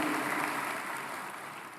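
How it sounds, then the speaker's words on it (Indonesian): A church congregation applauding during a worship service: dense, continuous clapping from many hands, moderately loud and slowly fading over under two seconds. "Ayo tepuk tangan buat Tuhan kita yang baik"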